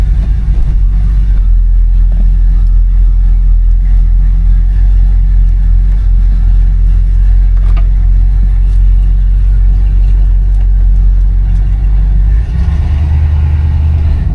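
A 1973 Buick Centurion with a 455 V8 running in a long, steady, loud idle rumble up close, with a brief shift in pitch near the end and no voices.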